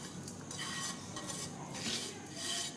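Sesame rice-flour snack mixture tipped into a cooking pan, a close dry rustling pour with light scraping against the pan, steady and unaccompanied by speech.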